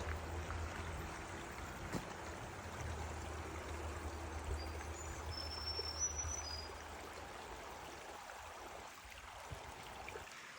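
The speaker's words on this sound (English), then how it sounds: "you can listen to the water here" A small creek runs below a forest path near Lilydale Falls, making a faint, steady trickle and rush of water that carries on without a break, with no voices.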